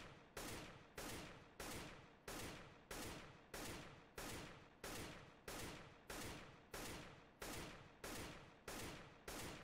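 Rapid gunfire in CS:GO comes as a long run of evenly spaced, loud, identical bursts, steady and without a pause, with no voices over it.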